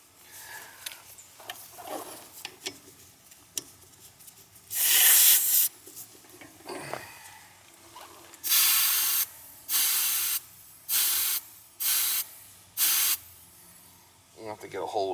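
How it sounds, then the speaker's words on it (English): Hose water sprays onto an old, iced-up central air conditioning unit in loud, close, hissing bursts: one early burst, then four shorter rhythmic blasts, with quieter background sounds between them. "give this thing a good hosing"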